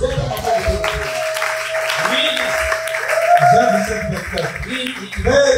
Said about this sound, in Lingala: Acclame très fort le Lord.